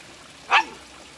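A single short dog bark sounds nearby and stands out against a quiet background.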